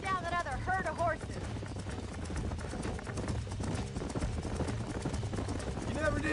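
Horse hooves clip-clop steadily at a trot in the Western game Red Dead Redemption, a rhythmic beat running under continuous talk and game music.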